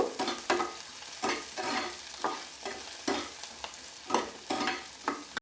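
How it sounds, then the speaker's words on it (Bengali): A large chopped onion fries in oil, its crackling sizzle swelling with repeated rhythmic stirring strokes, roughly two scrapes each second, close and clear with no voices. "পেঁয়াজটা আমি লাল লাল করে ভেজে নেব।"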